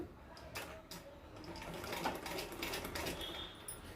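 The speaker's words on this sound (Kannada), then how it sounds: "ಇಲ್ಲಿ 1/4 ಇಂಚಷ್ಟು ನೀಟಾಗಿ ಸ್ಟಿಚಿಂಗ್ ಅನ್ನೋದು ಹಾಕ್ತಾ ಬನ್ನಿ" A domestic sewing machine runs steadily as it stitches a neat quarter-inch hem on blouse cloth, a continuous close mechanical whir with no voices.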